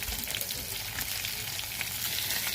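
Rui fish frying in oil in a pan, a steady, dense sizzle with crackling spits throughout, close and continuous with no voices.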